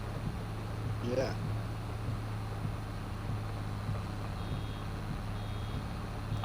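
Reversing beeps from a truck in Farming Simulator 22 repeat in a steady rhythm beneath a constant low engine hum, with a brief voice-like sweep early on.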